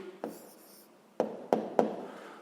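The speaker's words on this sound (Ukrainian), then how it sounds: "Записуємо відповідь." Pen writing an answer by hand on paper: a short scratch followed by a few quick, crisp strokes and taps, close and quiet in an otherwise silent room.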